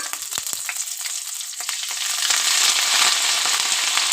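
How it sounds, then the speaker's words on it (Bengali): Nigella seeds and garlic crackle in hot oil, a few sharp pops at first, then a loud, close sizzle that swells and holds steady to the end, with no talking. "তেলের উপরে কালো জিরে ফোড়ন দিয়ে দিলাম। দিয়ে দিলাম রসুন,"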